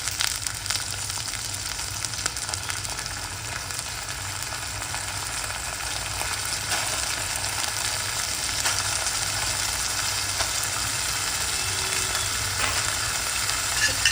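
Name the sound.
rice frying in hot ghee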